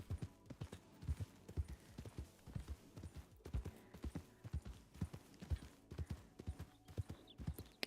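A horse canters in Red Dead Redemption 2, its hooves beating out steady, rhythmic clip-clop triplets that stay close and clear throughout, with no other sound competing.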